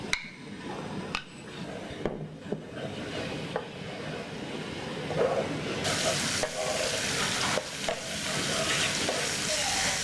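Chili paste frying in a tablespoon of hot vegetable oil over medium heat: scattered clinks and scrapes at first, then a dense, bright hiss that swells and holds close by.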